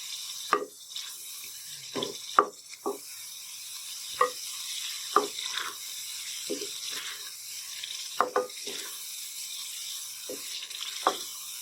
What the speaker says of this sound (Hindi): अब इन सब चीज़ों को मिक्स करेंगे और 5 मिनट तक इसे भून लेंगे अच्छे से।